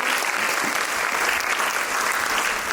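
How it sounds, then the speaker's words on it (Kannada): A large audience claps loudly and continuously to welcome a revered guru arriving on stage, a dense, even wash of applause filling the whole moment. "ಚಪ್ಪಾಳೆ ತಟ್ಟಿ ಅವರಿಗೆ ಅಭಿನಂದಿಸಬೇಕು"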